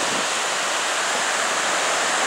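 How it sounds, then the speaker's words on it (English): Ocean waves roll in on a beach as the tide comes in, a loud, continuous broadband wash of surf with no break and no voices. "Tide's coming in."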